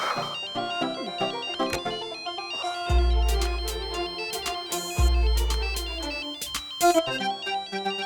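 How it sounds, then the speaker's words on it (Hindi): An electronic phone ringtone plays a bright repeating melody with deep bass hits, ringing steadily and fairly close with no talking. "फोन आ रहा है"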